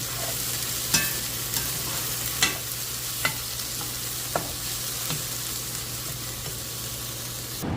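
Vegetables for a meatless white bean chili cook in a pan with a constant close sizzle, punctuated by a handful of light knocks from stirring at irregular intervals.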